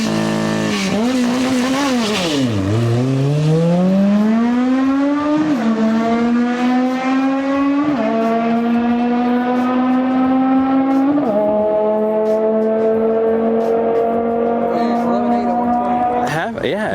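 A Honda Civic with an all-motor K-series engine revs hard at full throttle, its loud tone climbing and then dropping through several quick gear shifts, a sustained high-pitched wail recorded from inside the car.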